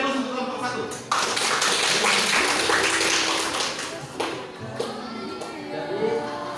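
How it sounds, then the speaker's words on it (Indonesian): Classroom applause for a presenting student group, a dense patter of clapping hands that rises after a voice and carries under ongoing talk. "Beri aplaus untuk kelompok 1."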